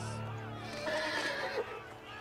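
A horse neighs in the Game of Thrones video game, one drawn-out whinny at moderate distance over faint game ambience and background sound.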